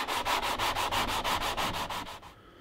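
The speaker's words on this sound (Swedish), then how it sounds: "då är det dags att grovslipa kanterna" A sanding block rough-sands the sawn edges of a wooden box, a steady series of about a dozen rhythmic rasping strokes, close and fairly loud, ending abruptly with no talk.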